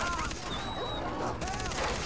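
Rapid gunfire in the video game Far Cry 3, a fast, continuous stream of shots, loud and close, mixed with whining game effects and a voice speaking over it.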